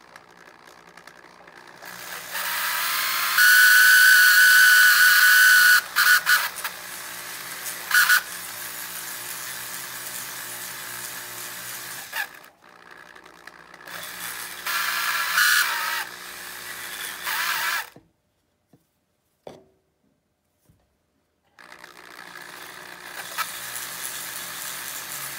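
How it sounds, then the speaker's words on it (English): A 5/8-inch sanding drum on a rotary tool works the shank bore of a saxophone mouthpiece, giving a loud high whine in bursts with pauses and quiet gaps between them. "I'm gonna do just a little light sanding with this"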